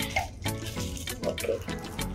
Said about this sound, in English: Now, I'm gonna put the dishwashing soap in a small container.